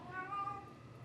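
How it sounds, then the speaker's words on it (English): A female cat in heat meows with a drawn-out, wavering call, heard close and steady over faint background noise. "my cat is on heat, and she's going crazy"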